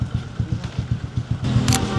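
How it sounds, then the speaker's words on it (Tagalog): A motorcycle loaded full with sacks of rice idles close by in a steady, rapid low putter, rising slightly in loudness toward the end, with no talk over it. "Lakas ng motor mo, sir, ha?"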